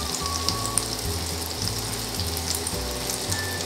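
Chicken pieces for mini Kentucky-style fried chicken dropped into hot frying oil, giving a steady, close bubbling sizzle that fills the whole stretch without talk.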